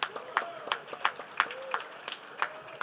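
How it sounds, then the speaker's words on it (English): An audience at a government funding announcement claps for the presenters with slow, evenly spaced claps that ring out in a steady rhythm, fairly close and moderate in volume. "Can we give all the presenters a great round of applause?"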